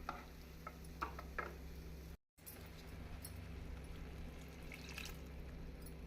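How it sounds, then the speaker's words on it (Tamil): Tamarind water is poured and stirred into a black chickpea curry (kondakadalai kulambu) in a pot, giving a soft, steady sizzle and wet stirring scrapes close by, with a brief dropout midway and no talk. "நாம் புளித்தண்ணியை கரைத்து இதனுடன் ஊற்றிவிட வேண்டும்."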